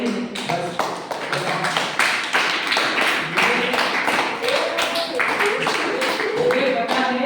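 An audience claps during a spiritual lesson at a Deshmukh Nagar pathshala, with irregular bursts of hand claps running for several seconds alongside a talking voice.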